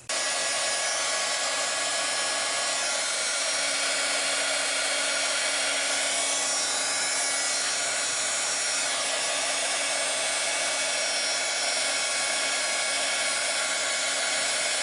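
A heat tool blows steadily to melt white embossing powder on a card, a constant loud whooshing hiss that fills the whole stretch without pause, close up and alone.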